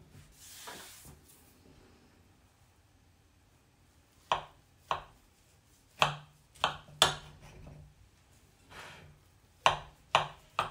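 A knife cuts through a Sharlotka apple pie in a quiet kitchen, giving a scattered series of sharp clicks and taps as the blade meets the plate, with short pauses between cuts.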